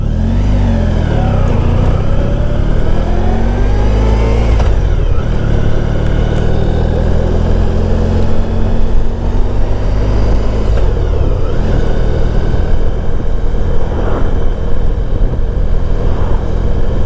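A 1994 Honda ST1100 motorcycle engine on a Sunday ride, loud and close, with repeated rising revs through the gears broken by brief dips at each shift, then steadier cruising with wind noise.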